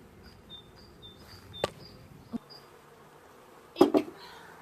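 Honeybees from a colony buzz faintly around an open beehive as the super is set aside, with a few sharp knocks and bumps of hive equipment near the end.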